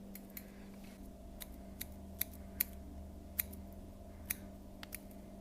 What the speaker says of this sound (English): you can take your precision scissors and just kind of trim that up